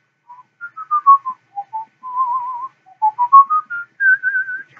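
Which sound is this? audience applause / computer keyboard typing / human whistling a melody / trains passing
human whistling a melody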